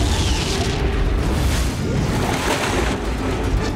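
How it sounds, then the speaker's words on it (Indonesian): A laboratory blows up in a film, a loud, rumbling, sustained blast with dense roaring noise that fills the whole stretch without easing. "laboratorium akhirnya meledak membuat tubuh Kotoga itu hancur berkeping-keping"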